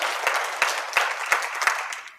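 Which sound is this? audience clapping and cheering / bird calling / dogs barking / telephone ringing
audience clapping and cheering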